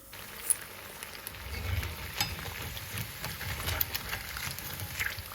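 Chicken wontons deep frying in hot oil in a deep kadai, a steady close crackle and sizzle with scattered pops, running alone without talk.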